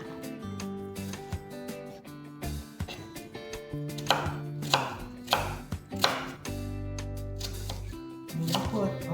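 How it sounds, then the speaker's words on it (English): A knife chops through onions on a cutting board for a Jamaican vegan breakfast, giving a run of irregular knocks and sharp taps of varying loudness, close by, with faint background sounds between strikes. "Cut up the onions."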